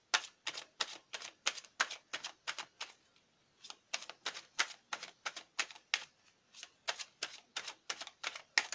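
A deck of tarot cards being cut and shuffled by hand, rapid clusters of crisp card flicks and slaps close up, with a brief pause partway through before the riffling resumes.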